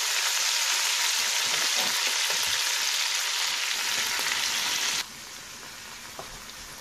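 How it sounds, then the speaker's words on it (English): Garlic and escarole sizzle loudly in a hot pan, a dense, steady frying hiss with faint stirring, which then drops to a quieter simmering crackle. "now I'm going to add my garlic and my escarole and just cook it a couple of minutes"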